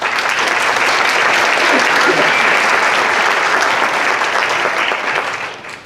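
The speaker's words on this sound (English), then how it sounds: "So round of applause for Mrs. Wright." An audience at a middle school orchestra and choir concert claps steadily and loudly for several seconds, a dense sustained applause that fades slightly at the end.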